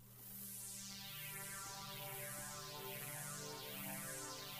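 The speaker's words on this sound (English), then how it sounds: "I've got a design pad" A Design Pad synth preset playing in Logic gives a sustained, full chord with bright high end, steady and unbroken for several seconds with no voices.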